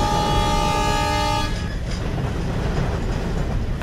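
An Indian Railways train rolls past in Trainz Simulator, a steady loud rumble of wheels on track with a sustained horn tone in the first half that then drops away, leaving continuous rolling noise.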